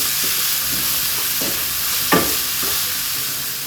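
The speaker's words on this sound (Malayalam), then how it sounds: "ഇതൊന്ന് നല്ലതുപോലെ ഒന്ന് വഴറ്റിയെടുക്കാം." Onions sautéing with a little salt in a pan for a cabbage masala, a steady close sizzle with scraping stirs of a spoon every half second or so, no talking.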